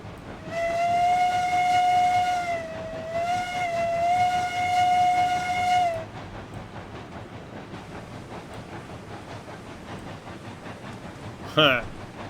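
A steam locomotive in the RailRoads Online game sounds two long, loud whistle blasts, then the engine chuffs on with a steady rumble, and a brief sharp squeal comes near the end.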